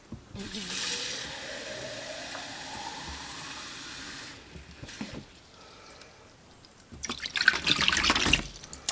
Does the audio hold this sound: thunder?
no